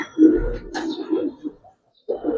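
A pair of giribaz racing pigeons of the palla line in a loft coo low and throaty in a rolling burst, fall quiet briefly, then start cooing again near the end.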